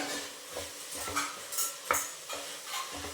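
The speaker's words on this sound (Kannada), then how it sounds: "ಅದೆಲ್ಲ ಸುವಾಸನೆ ಹೋಗೋವರೆಗೂ ಎಣ್ಣೆಯಲ್ಲಿ ಈ ರೀತಿ ಮಿಕ್ಸ್ ಕೊಡಬೇಕು" Avarekalu usli, field beans with ginger and garlic in hot oil, stirred in a pan: a steady sizzle with repeated close spoon scrapes and clinks in an uneven rhythm, no voices.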